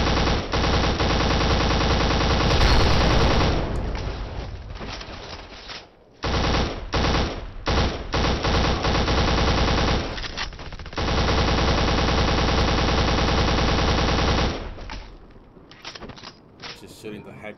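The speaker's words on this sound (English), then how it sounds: "Just shooting the heck out of these guys." Rapid automatic gunfire from a shooter game played on an Xbox Series X, loud sustained bursts broken by short pauses, with someone talking over the shooting.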